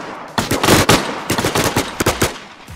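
Gunfire in the battle royale game Last Man Standing, a series of loud, sharp shots fired in quick irregular bursts, close and alone with no talking.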